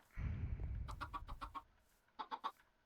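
Chickens clucking in a farming video game, a short flurry of rapid clucks followed by a few more bursts, close and fairly quiet after a brief rush of noise.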